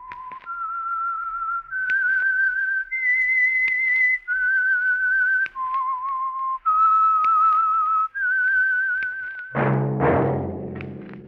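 A clear whistled melody of sustained, sliding notes, solo and close, ending on a sudden burst of a deeper musical chord: the theme of the radio mystery program The Whistler.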